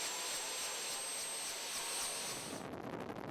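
A Philippine Air Force helicopter runs steadily at close range, its loud engine and rotor noise forming a constant broadband roar with a high whine, then slightly shifting tone near the end.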